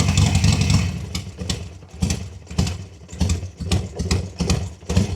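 A cold 2005 Harley-Davidson Sportster 1200 V-twin idles loud and close, its uneven, loping pulses rising and falling in a lumpy rhythm with no other sounds.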